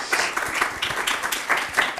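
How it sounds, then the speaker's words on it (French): An audience applauds the speakers of a round table on arts and culture, a short burst of lively clapping from a modest crowd with uneven, bunched strikes. "Je pense qu'on peut les applaudir très fort."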